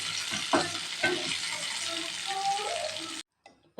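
Spices sizzle lightly in hot oil in a pan, a steady frying hiss with a few stirring scrapes and clinks, close up, before it stops abruptly.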